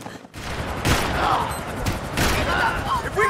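Gunfire in the video game Max Payne 3, loud bursts of rapid shots and impacts in quick succession over steady game noise, with voices speaking between the volleys.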